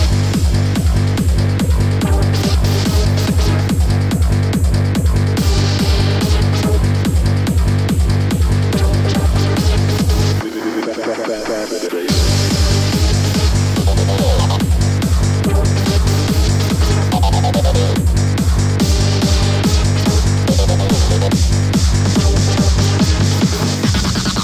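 Full electronic dance track with a driving four-on-the-floor kick, steady bass and a bright lead synth, loud and dense throughout, with a brief breakdown where the beat thins before the full mix returns.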